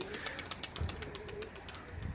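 A Dumanlı pigeon coos softly in a cold loft, low repeated rolling calls at close range over faint background noise and scattered clicks.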